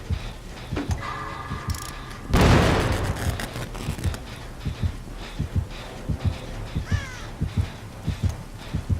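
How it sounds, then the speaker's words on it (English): Crows in Dead by Daylight caw and flap up when startled, with a sudden loud burst of wings near the start, then scattered calls over a low, pulsing heartbeat-like thump in a tense game ambience. "everybody just runs over every crow that they see"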